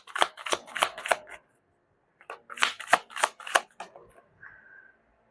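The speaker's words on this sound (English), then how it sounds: "You saw me shuffle." Tarot deck shuffled by hand in bursts of quick papery riffles and taps, two clear runs separated by a pause, close and dry with a brief faint tone at the end.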